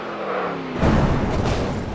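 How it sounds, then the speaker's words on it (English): A NASCAR race car in the iRacing simulation slams into the wall with a loud, broad crunching impact that breaks through a steady engine drone, followed by continued rumbling noise. "Wall hit from the 7."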